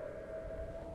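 Siren Head's siren in a free horror escape game set on a farm field: a steady, faint, droning wail held without a break under a low rumble, with no voices.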